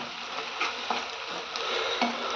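A chili and turmeric masala cooks in a pan with a soft, even sizzle and a few light scraping clinks from stirring.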